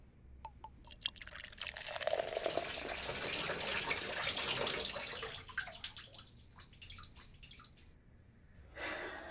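Water runs steadily into a bathtub in a reviewed film, a continuous splashing hiss with scattered drips and small clicks, fairly close, fading briefly near the end before resuming.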